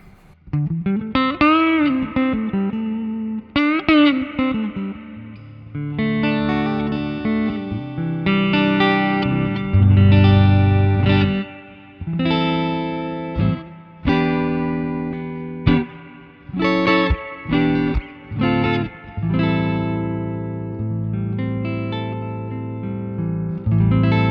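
An electric guitar played on its neck pickup plays chords and single notes with a warm, rounded tone and some effects, ringing out loudly in short phrases with brief pauses.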